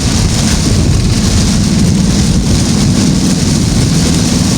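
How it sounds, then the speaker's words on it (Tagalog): Heavy rain pours steadily in a dense, unbroken roar on a road in Lucena City, Philippines, loud and close, with a low rumble underneath and no voices. "ito naman si ulan."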